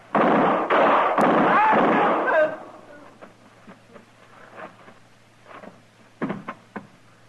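Gunshots in a western radio drama shootout: a dense burst of loud, close bangs in the first two and a half seconds, then scattered softer cracks and knocks trailing off, with a sharp cluster near the end.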